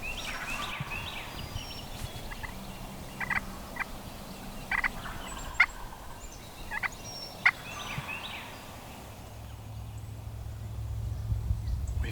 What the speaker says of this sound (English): We got about 4 birds gobbling hard off to our left.